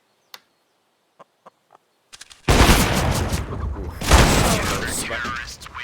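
A few faint, scattered clicks, then loud bursts of gunfire in a competitive shooter match, two sustained volleys that crash in suddenly and dominate the sound.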